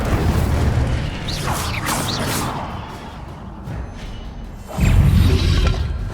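Incendio fire spell cast in the video game Hogwarts Legacy: a loud, rumbling magical blast with whooshing swirls, then a second heavy booming burst near the end amid continuous battle noise.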